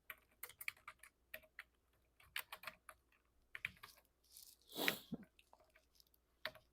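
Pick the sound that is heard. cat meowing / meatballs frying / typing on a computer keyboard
typing on a computer keyboard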